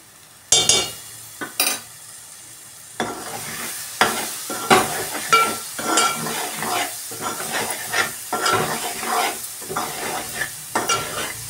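Masala for a chicken curry with wet coconut fries in a pan and is stirred with a spoon, giving a steady sizzle broken by repeated scraping strokes and clinks, close and moderately loud, with no talking.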